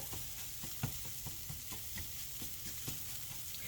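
Scrambled eggs cooking in a pan, a faint, steady sizzle with soft intermittent scrapes of stirring over a constant frying hiss, with no talking.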